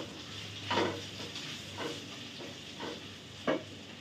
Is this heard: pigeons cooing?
no